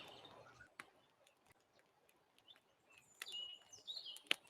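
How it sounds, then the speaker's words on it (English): Quiet campfire and birdsong ambience plays during a short or long rest in a D&D 5E tabletop game, with faint sparse crackling ticks and thin bird chirps rising near the end. "The long rest or the short rest has a little campfire and birds chirping."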